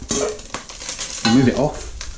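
Minced beef browns in a pan for a Bolognese ragu, a soft crackling sizzle broken by scraping and clinking as a utensil stirs against the pan, close up, with a brief murmur of voice.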